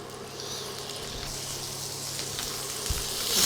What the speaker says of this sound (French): Donc là, on va faire suer les échalotes dans du beurre